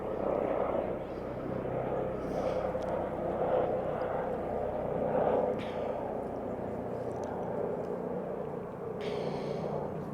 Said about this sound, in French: Il y a un hélicoptère qui passe,